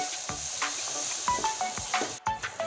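Spice paste with coriander powder frying in oil in a pan for a Bengali fish curry, with bursts of sizzling and scraping as it is stirred, close by and fairly short, with no voices.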